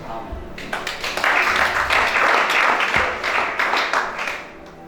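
Church congregation applauding and cheering during a service, a dense wash of clapping and voices that swells after the first second and holds steady before tapering off.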